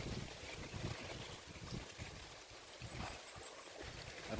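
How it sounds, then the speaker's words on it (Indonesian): Strong wind gusts buffet the microphone outdoors at a fishing spot as a storm approaches, a steady broadband roar with no voices. "Angin-angin sangat kencang sekali ya."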